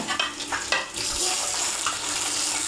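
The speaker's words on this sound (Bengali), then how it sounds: "ডাটা রান্না করতেছি শিং মাছ দিয়ে" Amaranth stems frying with stinging catfish in a pan give a steady, close sizzle, with a few stirring clatters early on and continuous hiss afterward.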